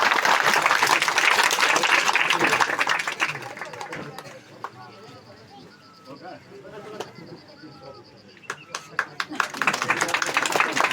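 Village audience applauding a third-prize winner at a rural community prize-giving, broadband clapping loud for about four seconds, then fading into quieter outdoor murmur before brief claps return near the end.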